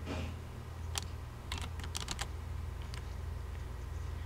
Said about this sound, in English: I'm going to tell you what to type in here